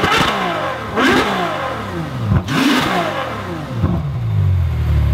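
Ferrari F12 V12 revved repeatedly at close range, loud rising and falling engine bursts about every second and a half, settling to a rumbling idle at the end, with no talking.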